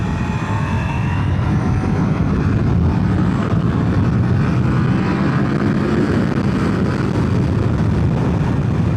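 A 2025 Ducati Panigale V4 engine at quarter throttle gives a loud, steady, continuous roar that runs unbroken from start to finish, with no talk over it.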